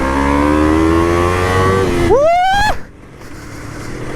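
A Yamaha R3 sport bike with a Yoshimura full-system exhaust, its dB killer still fitted, drones steadily up close, then revs up sharply for a moment before the throttle snaps shut and the engine drops back to a low idle.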